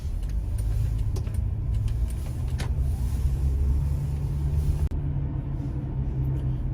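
Steady low rumble of a used Hyundai NF Sonata running on a test drive, its engine and road noise continuous and even from inside the cabin, with faint clicks and no voices.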